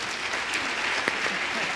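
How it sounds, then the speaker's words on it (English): Steady applause from a conference audience at an international banking event, clapping for a panel of speakers; a dense, even wash of many hands at moderate level throughout. "give them a round of applause"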